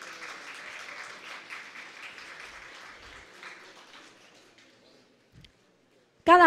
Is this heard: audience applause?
yes